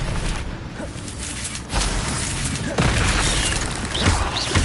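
Casting the Expelliarmus spell in Hogwarts Legacy releases heavy booming bursts. Two sharp blasts hit a loud rumbling backdrop, which swells and stays dense and close throughout.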